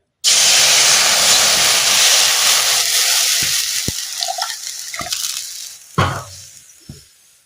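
Water poured into a hot pan bursts into a loud, close hiss of steam that slowly fades, followed by a few sharp clicks and knocks.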